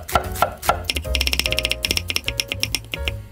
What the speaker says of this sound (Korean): 얇게 채를 썰어 주세요.